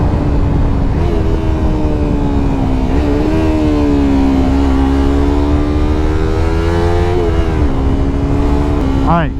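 A Yamaha R3 motorcycle rides through the city, its engine droning steadily and shifting pitch up and down as it accelerates, loud and continuous under a talking voice.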